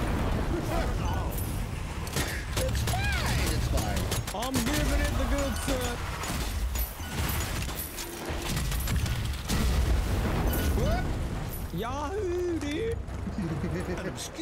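A grenade blast in a video game rumbles amid continuous booms and gunfire-like bursts in a dense, loud battle soundscape, with people talking over it throughout.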